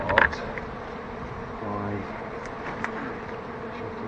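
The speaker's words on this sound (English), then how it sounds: "I think the next thing is to do is to start getting some bees into this box here." Honeybees rescued from a house being demolished buzz in a steady, dense hum as they are put into a box, with faint voices and handling noises.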